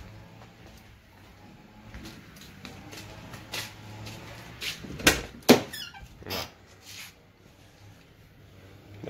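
A car door on a 1994 Ford Taurus V6 opens with a few sharp squeaking clicks and clunks at close range, set against a quiet background.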